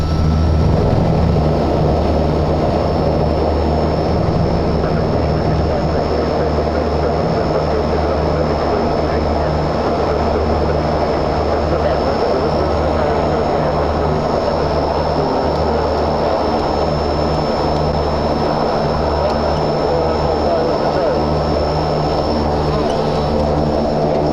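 Antonov airplane touching down and rolling out on the runway, with a loud, steady engine and propeller drone filling the whole stretch, heard from inside.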